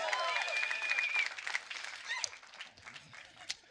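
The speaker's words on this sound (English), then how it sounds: "There might have been three rows over here cheering" An audience in a church-like gathering claps and cheers, loud at first with whoops and whistles, then thinning into scattered clapping and a few voices.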